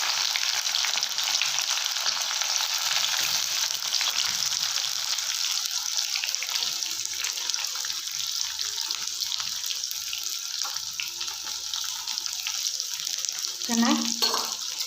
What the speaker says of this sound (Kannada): ಇವಾಗ ಈರುಳ್ಳಿ ಅಥವಾ ಉಳ್ಳಾಗಡ್ಡಿ ಹಾಕೋಣ.